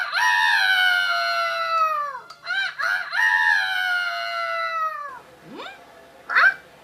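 A voice actor imitates a rooster crowing during a dubbing session, two long strained crows with a short squawk between, then a few brief clucks, close and loud with no other sound.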